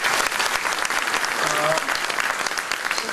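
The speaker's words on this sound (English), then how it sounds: "I would like to just give a round of applause to Mrs. Trujillo" A gala audience applauds steadily in a large hall, a dense and loud wash of clapping that holds for the whole stretch.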